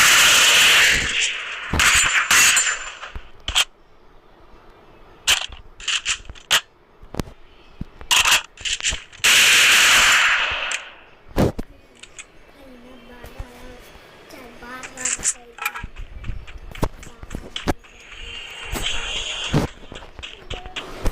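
A G18 pistol in Free Fire fires and reloads, with sharp rapid shot clusters, metallic clacks and clicks in bursts separated by gaps, and a voice talking over parts of the sequence.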